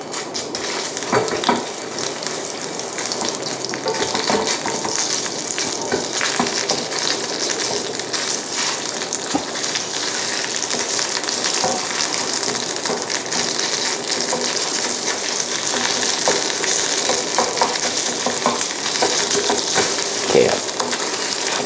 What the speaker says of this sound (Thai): ลงไปผัดไฟอ่อน ๆ